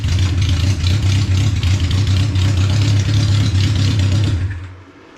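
A 1972 Honda CB500 Four motorcycle engine runs with a steady, loud, low rumble close by, then sags and dies away in the final second, with no speech.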